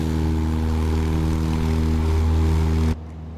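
A Cessna Caravan turboprop drones loudly and evenly in a flight simulator, then cuts off abruptly near the end, leaving only a faint low hum.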